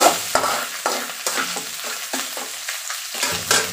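Coarse homemade ginger garlic paste fries in oil over a low flame, a continuous close sizzle punctuated by regular scraping strokes of a spoon stirring the pan.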